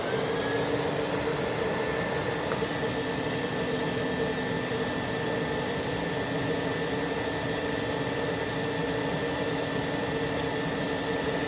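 Rainbow E2 Silver vacuum cleaner running during an airflow test, a steady, unbroken airy roar with a faint high whine, close and constant throughout, with no one speaking.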